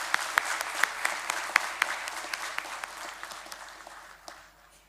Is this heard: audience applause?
yes